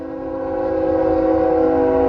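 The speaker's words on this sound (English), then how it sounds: "I guess the train is okay." A train horn sounds in one long, steady, loud blast that swells slightly, heard from footage a streamer is watching, with no talk over it.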